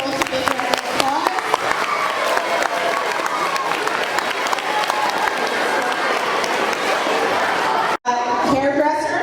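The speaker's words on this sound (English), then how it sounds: "Hairdressers, a big round of applause." Applause at a Terry Fox Run school assembly at a senior public school in Brampton, steady clapping from a large crowd with chatter and cheers mixed in, briefly cut near the end.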